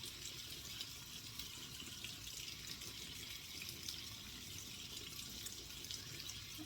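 Tap water runs steadily into a bathroom sink during face washing, a soft continuous splash and trickle that stays even and fairly quiet throughout, with no voices.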